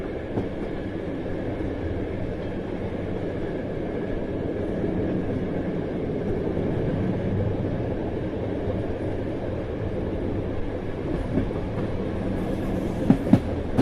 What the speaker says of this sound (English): the rhythmic clatter of the train, slowly lulling him into a pre-departure doze